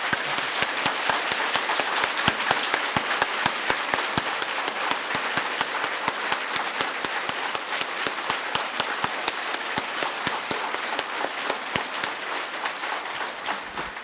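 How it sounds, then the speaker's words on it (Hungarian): A crowd at a talk in Hungary bursts into dense, sustained applause, many hands clapping loudly and steadily for the full stretch without speech. "Ha most tapsoljátok meg magatokat,"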